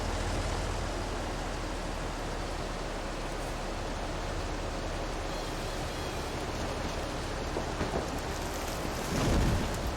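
Rain and thunder in the video game Farming Simulator 22, a dense, constant hiss of rainfall with a low thunder rumble rising near the end, steady and loud with no voices.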